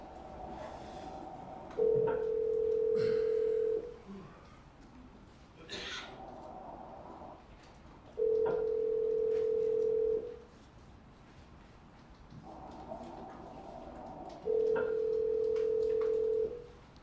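Phone call ringing out before reaching voicemail: three long, even ringback tones spaced a few seconds apart, clear and fairly loud, with faint background noise and no speech between them.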